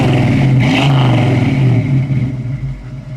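A 1968 Ford Mustang with a 289 two-barrel V8 and dual exhaust revs loudly up close, a deep throaty roar that swells, holds, then eases back toward a lumpy idle.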